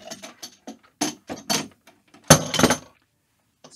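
Metal clamp parts clicking and ratcheting as a clamp is fitted onto the metal bar under a desk for a Honeycomb Alpha and Bravo flight sim mount: a string of short, close mechanical clicks and knocks, ending in a louder clatter.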